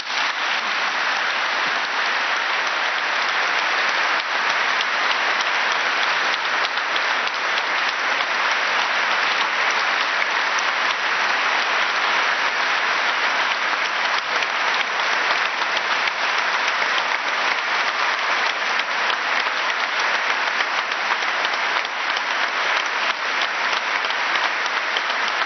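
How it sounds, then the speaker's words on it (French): Sustained, dense applause from a large audience of cultural, philosophical and artistic figures gathered at a meeting in Lisbon, steady and loud throughout with no talking over it. "Applaudissements du monde de la culture, du monde de la philosophie, de la pensée, de la science et de l'art"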